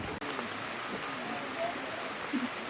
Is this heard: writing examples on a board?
no